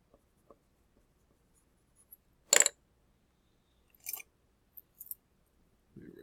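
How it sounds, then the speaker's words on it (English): Marker or chalk on a classroom board, a sharp scrubbing burst of erasing followed by a few short scratchy writing strokes, close and quiet with silence between. "erase that, write that over"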